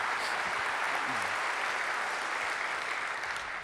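An audience applauds a Habitat for Humanity group at a public affairs event, the clapping steady and moderately distant throughout.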